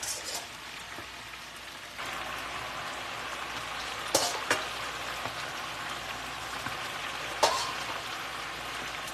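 Steady crackling sizzle of unbreaded chicken wings frying in hot oil, with a few sharper pops and spatters, no voices.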